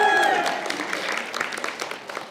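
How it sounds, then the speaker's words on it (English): A crowd applauds a speaker coming onstage, a brisk, full burst of clapping that starts loud over a brief musical tone and then thins slightly while continuing. "give him a big round of applause"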